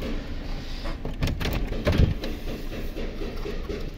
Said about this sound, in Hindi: दरवाजा खोल देते हैं इसको।